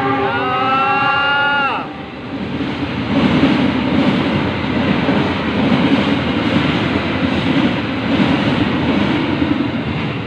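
A train rumbles past at close range with a continuous rolling roar and rattling wheels, preceded by a brief horn-like tone at the start.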